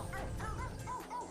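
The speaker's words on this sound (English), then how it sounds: "I don't think barking at it helps" Cartoonish dog barking in the video game Phogs, a few quick yips and whimpers in a row, quiet and close against a steady game background.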